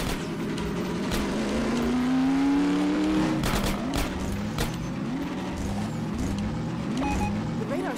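A car drives in Half-Life 2: Episode Two, its engine holding a steady, rising hum with a brief whine and some thumps of rough terrain, loud and continuous throughout.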